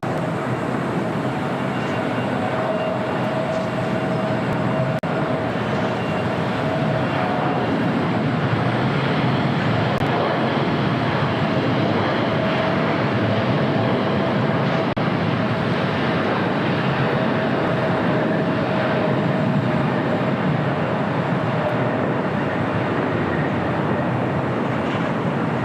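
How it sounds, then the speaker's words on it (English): Air Tahiti Nui Boeing Dreamliner arriving at LAX from Paris, heard as a steady, broad jet roar that holds fairly evenly throughout, distant and unbroken. "we have a Dreamliner, Air Tahiti Nui, Flight 7 coming in from Paris"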